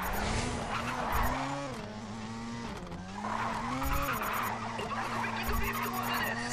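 Tires squeal and skid as a car drifts in Race Driver GRID, a long wavering screech riding over a revving engine, loud and close with pitch swelling and dipping through the slide.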